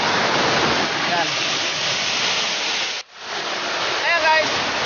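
A big river in Palawan rushes in a steady, dense roar, loud and close, with a brief dip midway and a voice faintly heard over it.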